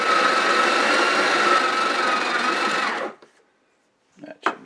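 A Breville Barista Express grinder whirs loudly and steadily for about three seconds while grinding coffee beans, then cuts off, leaving brief clinks and handling sounds afterward.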